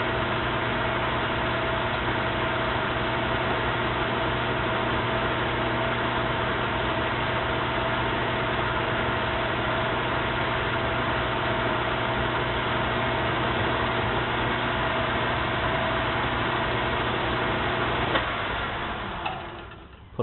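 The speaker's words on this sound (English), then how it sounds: "get the parting tool out" Metal lathe turning steadily while a parting tool cuts off a metal sleeve, a constant close mechanical hum with faint ticking that winds down near the end.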